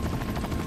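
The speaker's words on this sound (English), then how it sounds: "Are you shooting at the freaking helicopter?" Helicopter in the survival horror game Resident Evil 4, a brief, loud, steady rotor roar up close with no talking over it.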